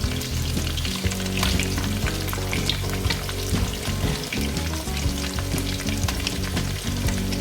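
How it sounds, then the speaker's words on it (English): Onions and curry leaves stir-frying in hot oil for a prawn curry, a loud, steady sizzle with frequent scraping and clinking of the spatula against the pan, continuous throughout and without talk. "We need to stir fry them evenly until the onion is golden brown"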